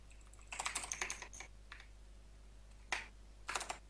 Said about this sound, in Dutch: Was ook gewoon even aan het typen in de console